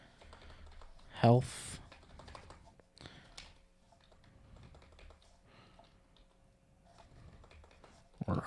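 Someone typing on a computer keyboard, short bursts of quiet key clicks with pauses between, under intermittent nearby talk.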